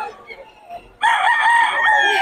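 A rooster, a gamecock offered for sale, crows once nearby and loudly after a brief quiet stretch of faint background sounds.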